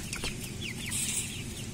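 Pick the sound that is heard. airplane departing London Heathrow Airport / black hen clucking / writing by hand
black hen clucking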